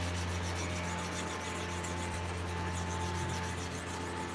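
A blade being sharpened with steady, repeated rubbing strokes, a close, continuous rasping over a low electrical hum, without talking.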